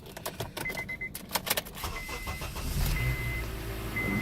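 Keys jangle up close, then the engine of a 2006 Honda car with 200,000 miles cranks and catches, settling into a steady idle.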